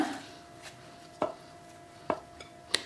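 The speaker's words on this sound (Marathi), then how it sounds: "हे जिंजर, हेचे मातशे बारीक कुडके करता" Ginger chopped into small pieces with a knife on a board: a few sharp, sparse chops spaced about a second apart, close and clear, with quiet background and no speech.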